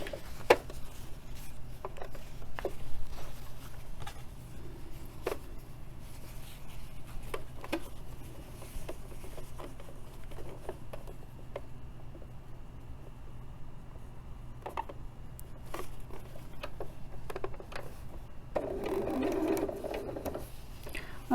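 A sewing machine stitches a quilt block, with short bursts of quiet mechanical whirring and clicking at close range and pauses between the runs.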